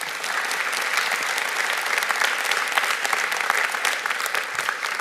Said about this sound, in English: Let's give our partners a round of applause.